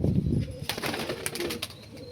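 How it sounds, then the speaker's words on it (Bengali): Female kalaka pigeon taking off, a soft flurry of wingbeats and low cooing close by, brief and moderately loud with no talking. "মাদিটা উড়ে গেল"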